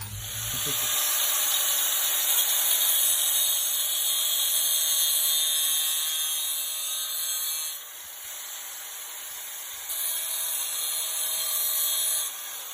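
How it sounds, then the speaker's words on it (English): A grinder cuts into a brake line on a Dodge Charger during a Brembo brake swap, a steady high-pitched whine and hiss that runs throughout, dipping briefly midway before resuming, close and loud. "we're gonna use a grinder and barely cut it so we can be able to bend it"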